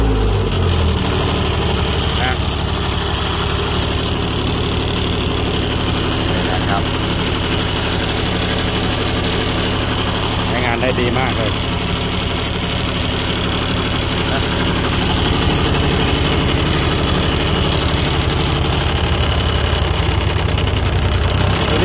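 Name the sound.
old Japanese 3-cylinder diesel generator welder idling at low throttle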